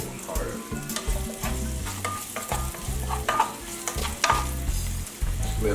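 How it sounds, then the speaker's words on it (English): Black rice with djon djon mushrooms bubbling and sizzling in a pot while a spoon stirs and scrapes in an irregular rhythm, close and steady, with no talking. "Let that simmer for a little bit."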